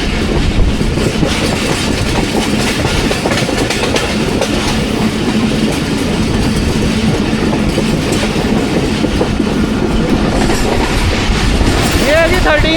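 Pakistan Express passenger train running on rails in rainy early-morning weather, heard from inside the coach as a loud, steady rumble with continuous wheel clatter.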